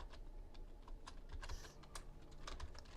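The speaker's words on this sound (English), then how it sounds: "I'm going to type in equals average" Fingers tap steadily on a computer keyboard while a spreadsheet formula is entered, the quiet, quick keystrokes clicking alone at close range.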